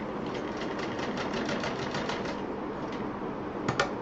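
Sewing machine stitching a cord onto a fabric pouch, a close, steady rapid needle chatter running throughout, ending with a couple of sharp clicks.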